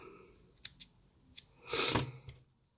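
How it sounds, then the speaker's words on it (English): Scissors trim flashy synthetic material on a baitfish sparkler pike fly, a few crisp close snips followed by a longer rustling cut, quiet overall. "I'm just going to trim them back a little bit"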